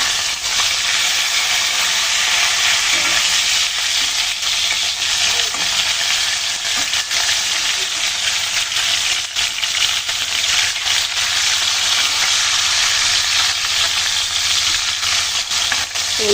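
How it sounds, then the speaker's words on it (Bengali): Tilapia fish pieces frying in hot oil while being turned over, a loud, dense, continuous sizzle and hiss with faint utensil scrapes, close and without talk. "সব কিছু মাছ ভেজে নেব। মাছগুলো উল্টিয়ে নিচ্ছি।"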